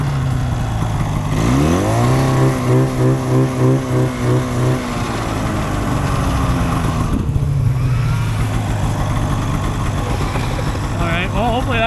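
A cheap used snowmobile engine starts out in the back-country, then revs up with a rising, buzzing two-stroke whine that holds steady, fades and picks up again. Voices talk over it nearby.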